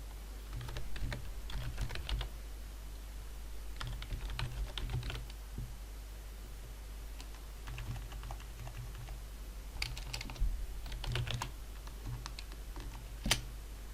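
Computer keyboard typing in irregular bursts of quick keystrokes with short pauses, fairly faint over a steady low hum, while a C# library automation form is being built.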